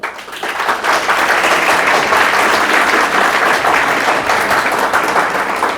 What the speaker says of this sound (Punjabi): ਆਪਣੇ ਆਪ ਲਈ ਇੱਕ ਜ਼ੋਰਦਾਰ ਤਾੜੀ ਮਾਰ ਦਿਓ